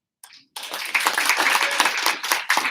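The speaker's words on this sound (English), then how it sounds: "have a little round of applause, shall we, for their attendance today?" An audience claps at a Meet the Candidates election event in Laurieton, with a brief faint clap first, then steady, fairly close applause that keeps going with uneven bursts.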